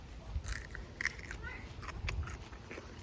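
Crunchy bite into a fresh garden snack outdoors in a coastal Maine vegetable garden, with a few crisp crunches and chewing close to the mic, mixed with brief talk and soft outdoor background.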